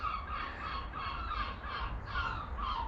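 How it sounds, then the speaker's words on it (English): Seagulls calling in a UK coastal setting, a series of harsh, repeated cries sounding somewhat distant over steady background noise. "Bloody seagulls."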